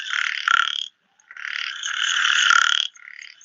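A common frog in Bangalore gives croaking calls, two loud, close bursts split by a short pause, with a brief softer trill at the end.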